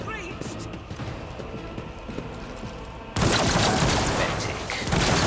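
Gunfire in Rogue Trader with rapid shots and mechanical clatter, then a sudden switch to a much louder, dense burst of continuous firing and crashes.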